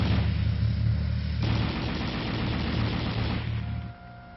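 An M60 tank's coaxially mounted 7.62 mm M73 machine gun firing in a continuous dense rattling burst, loud and sustained, with a shift in tone partway through before the firing cuts off near the end.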